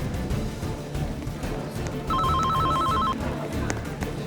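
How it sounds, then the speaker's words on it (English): An office telephone line rings in a busy scene: a single warbling electronic trill lasting about a second sits over a noisy background of murmur and bustle. "Pick up that line! It's been ringing for 5 minutes!"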